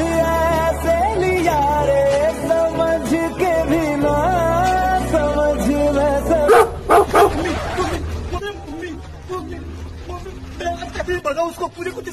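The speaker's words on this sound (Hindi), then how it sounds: "भगाओ उसको, पूरे कुत्ते से डर लगता है" A dog barks and yips repeatedly at close range, mixed with whimpers and excited speech in the background.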